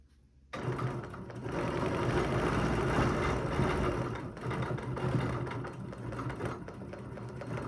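A sewing machine quilting, starting abruptly after a brief silence into a continuous close, rapid stitching whir that eases slightly before the end.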